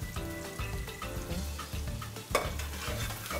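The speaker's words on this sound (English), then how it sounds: "Then you add the chopped kanda. You can stir." Chopped kanda being stirred into onions frying in a pot for abacha, a steady sizzle under repeated scraping stir strokes, close and fairly loud, with no talking.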